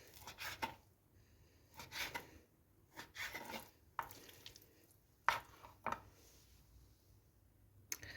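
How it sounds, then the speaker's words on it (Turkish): A knife chops raw chicken on a cutting board in irregular bursts of sharp thuds and clicks, fairly quiet, with pauses between the series of strokes. "hepsini güzelce doğradım"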